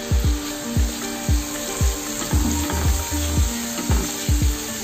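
Spices with turmeric fry in a pan for a pointed gourd curry, making a close, steady sizzle broken by a regular series of low thuds and scrapes, about two each second, with no voices.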